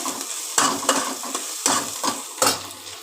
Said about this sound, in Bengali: আদা রসুন পেঁয়াজটা ভালো করে আমি ভাজা করে নিচ্ছি